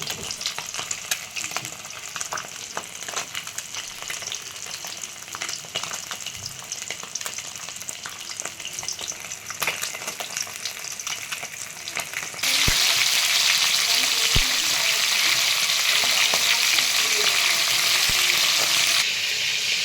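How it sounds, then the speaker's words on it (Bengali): Small rohu fish fry in hot oil in a pan, a continuous bright sizzle that jumps noticeably louder and hissier partway through, with a couple of sharp knocks from the pan. "প্রথমে তেলটাকে গরম করে নিচ্ছি, প্রথমে মাছটাকে ভেজে নিচ্ছি"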